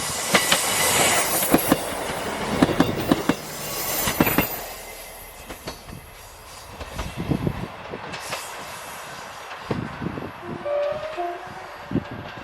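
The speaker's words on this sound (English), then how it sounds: "Inverness to Kyle of Lochalsh train." An Inverness to Kyle of Lochalsh passenger train rolls past close by near Fodderty Junction in the Scottish Highlands, wheels clattering rhythmically over rail joints with bursts of squealing, followed by a brief horn toward the end.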